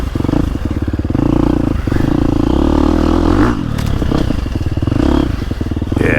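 A 2024 Husqvarna FC350 four-stroke motocross bike engine runs loud and steady, with a rough, pulsing exhaust note and slight rises in revs while clattering mechanical noise rides along.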